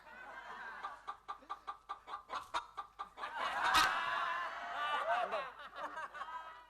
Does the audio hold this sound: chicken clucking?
yes